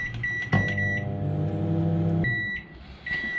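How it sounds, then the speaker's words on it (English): A running microwave oven heating lure-making material gives a steady close hum with a tonal drone, and short electronic beeps come at the start and near the end. "Put it in the microwave 2 minutes."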